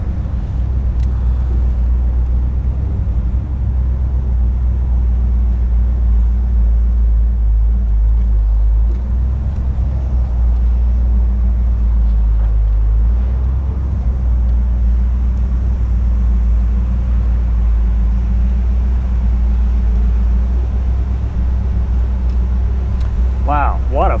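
A 1965 Chevrolet Impala convertible drives along, its engine and road noise forming a steady low rumble beneath someone talking throughout.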